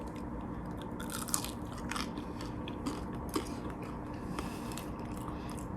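Close, crisp crunching of someone biting into a cornflake-crusted baked chicken bite, followed by steady chewing. No talking.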